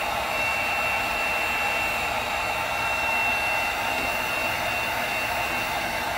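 A heat tool blows hot air over resin on a tumbler to make the colors run together, a close, steady, even whoosh like a hair dryer that holds unbroken throughout.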